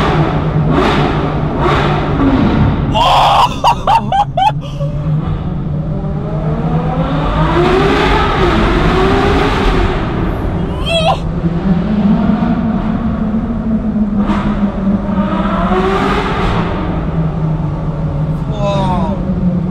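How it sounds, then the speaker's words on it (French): A Ferrari V12 engine revs repeatedly, its pitch climbing and falling in loud sweeps while people talk excitedly over it nearby. "Dans le V12 Ferrari, C'est magnifique."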